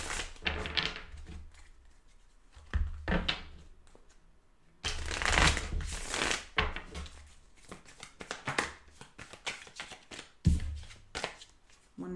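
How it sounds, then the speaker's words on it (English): Tarot cards shuffled by hand, close and fairly quiet, with bursts of riffling and scraping slides separated by brief pauses, and no voice present. "One more shuffle."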